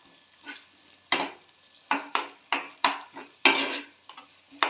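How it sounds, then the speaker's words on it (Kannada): Three eggs stirred and scrambled in a hot pan for street-style egg rice, with a spatula scraping and clanking in irregular strokes over a soft sizzle, close and without talk. "3 ಮೊಟ್ಟೆ ಹಾಕ್ಕೊಳ್ಳೋಣ. ಮೊಟ್ಟೆ ಹಾಕಾದ್ಮೇಲೆ ಮಿಕ್ಸ್ ಮಾಡ್ಕೊಳ್ಳಿ."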